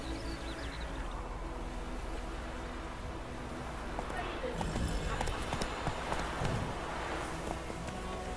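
Horse hooves in The Witcher 3 video game, a steady galloping clip-clop beneath a constant low rumble of ambience, fairly faint, with a voice speaking briefly over it.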